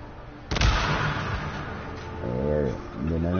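A grenade blast in the video game Days Gone bursts in loud and sudden, then leaves a long rumbling, crackling tail of debris and fire while someone speaks over the end.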